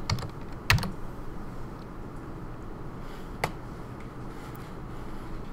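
Quiet clicks of a computer keyboard as values are typed, a few sparse keystrokes with one sharper tap, over faint background hiss and no talking.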